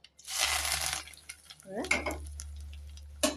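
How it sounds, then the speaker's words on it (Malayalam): Sliced onion, green chili, ginger, curry leaves and garlic hit hot oil with a burst of sizzling, followed by stirring scrapes and a short rising hiss before a final clink. "ഒരു ചെറിയ സവാള അടുപ്പിച്ചിട്ടുണ്ട് പച്ചമുളക് ഇഞ്ചി കരിവേപ്പില വെളുത്തുള്ളി നമുക്കിതെല്ലാം കൂടെ എണ്ണയിലോട്ടങ്ങ് ഇട്ട് കൊടുക്കാം"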